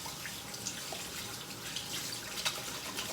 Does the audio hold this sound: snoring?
no